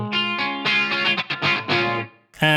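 Clean electric guitar run through a Helix with an EP booster model engaged and a stereo double-take effect, playing a short sequence of bright, sustained chords and notes up close with no talking.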